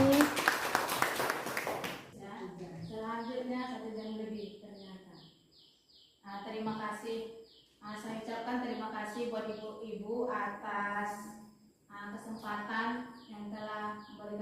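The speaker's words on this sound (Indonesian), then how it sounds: "Tepuk tangan buat Bu Dewi" Applause for Bu Dewi at the close of her talk on positive school culture: a dense burst of clapping in the first two seconds, then someone speaking steadily.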